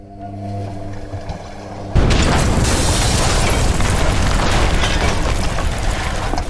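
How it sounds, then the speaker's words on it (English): A washing machine explodes in a sudden loud blast at about two seconds, followed by a sustained roaring, crackling rumble as it burns, staying loud and dense to the end. "the washing machine burst into flames"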